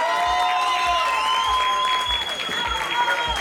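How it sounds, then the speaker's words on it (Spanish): An audience at a live concert in a brewery claps loudly and steadily for a percussionist, with dense applause throughout and ringing sustained tones sounding above it. "Javier Cabrera, otro aplauso más fuerte, por favor."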